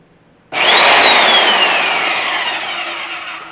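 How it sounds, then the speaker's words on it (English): A bandsaw cuts through a metal part for a 1973 Chevy C10 truck, with a loud, sustained, steady whine that starts abruptly and slowly fades over several seconds. No one speaks. "I'm just going to come over here on the bandsaw and try to cut as much of this as I can."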